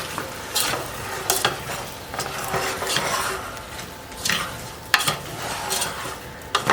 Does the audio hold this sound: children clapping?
no